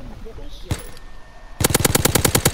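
Gunfire rings out in a World War II video game: a single sharp shot, then a rapid rhythmic burst of automatic machine-gun fire, loud and close, with faint voices beneath.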